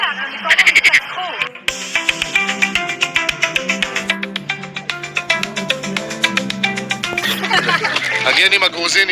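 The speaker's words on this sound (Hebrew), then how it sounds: "שומעים את כל הצפרדעים, כל זה רעש של צפרדעים." Frogs croak around a pond at night, a dense layered chorus of repeated calls that carries on throughout, mixed with other pulsing background sound.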